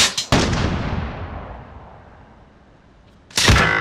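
Heavy gunfire in Call of Duty Warzone: a couple of quick cracks and then a loud booming blast with a long fading echo, followed by another sharp, powerful shot near the end, with no talking.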